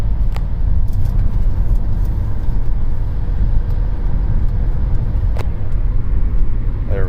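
A 2007 BMW X3 3.0si SUV drives along with a steady, continuous low engine and road rumble, loud and close throughout, with faint rattling ticks on top; the vehicle reportedly rattles and struggles to accelerate.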